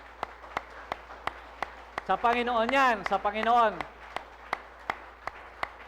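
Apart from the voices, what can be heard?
congregation clapping applause in church service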